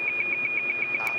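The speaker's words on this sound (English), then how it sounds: "It's our fire alarm inside." An indoor fire alarm at a TV news studio during live storm coverage of a derecho in eastern Iowa, sounding as a rapid, steady series of shrill electronic beeps about eight per second over a noisy background.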